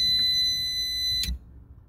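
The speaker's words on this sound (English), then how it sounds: "Oh, incoming call." A phone rings for an incoming call over a low hum, a loud steady high electronic tone that cuts off abruptly after about a second.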